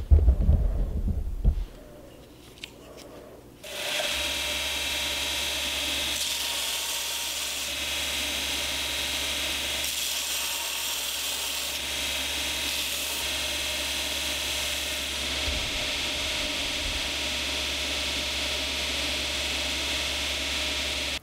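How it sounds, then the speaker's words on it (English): Power grinding of a micarta knife handle, a steady loud machine whine and rasp that starts after a few seconds of clatter and runs continuously, with no one speaking. "We have some micarta grinding to do, and it's going to get messy."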